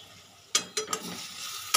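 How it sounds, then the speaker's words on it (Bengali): Spices with roasted cumin powder sautéing in a pan, a soft hiss of frying under a few quick scraping stirs, close and quiet with no voices. "এটা আমি একটুখানি 1 মিনিট কষিয়ে নেব।"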